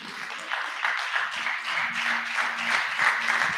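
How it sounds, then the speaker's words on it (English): A church congregation claps along in steady applause throughout, with a faint sustained tone, likely organ or keyboard, held underneath. "let's give the Lord a hand clap, everybody"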